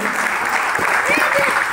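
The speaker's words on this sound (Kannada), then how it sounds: "ಅವರಿಗೆ ಜೋರಾದ ಚಪ್ಪಾಳೆ ಇರ್ಬೋದು." An audience applauds children singing with harmonium and tabla at a Kannada Rajyotsava celebration in Santosh Nagar, Hubballi, giving a brief, steady patter of clapping with voices talking over it.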